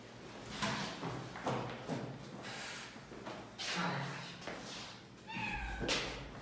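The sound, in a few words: cat meowing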